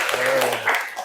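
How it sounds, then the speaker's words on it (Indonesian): Brief clapping from a classroom of students applauding a discussion group, a dense patter of hands that overlaps a voice speaking, lasting only about a second. "Silakan beri tepuk tangan untuk kelompok 8."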